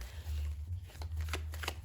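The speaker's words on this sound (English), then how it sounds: "as I shuffle these cards" A deck of tarot cards is shuffled up close, a quick run of soft riffling flutters and crisp card snaps over a low background hum, with no talking.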